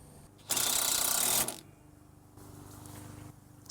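A ratchet tightening a screw on a Honda Ridgeline condenser bracket, a close, loud run of rapid clicking for about a second, then quieter intermittent mechanical clicks and handling noise.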